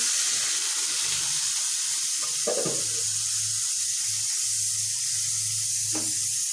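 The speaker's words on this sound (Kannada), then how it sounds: "ಈಗ ಇದಕ್ಕೆ ಈ ಶೇಂಗದ ನೀರು ಏನಾವಲ್ಲ ರೀ ಅದು ಹಾಕೋತೀನಿ ನೋಡಿರಿ" Peanut water is poured into sizzling brinjal curry: a steady frying hiss carries on while a brief splash and gurgle rise near the middle, with a second short splash near the end, with no speech.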